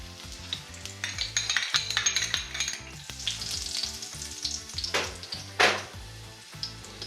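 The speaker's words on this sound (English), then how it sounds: "if you see this sizzle, you know it's ready" Cumin seeds sizzle and crackle in hot ghee in a pan, a steady close frying hiss with scattered pops and occasional stirring clinks, no talking over it.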